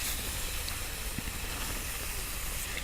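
Bacon sizzles in a pan on a Trangia camping stove, a steady close hiss and crackle with no talking.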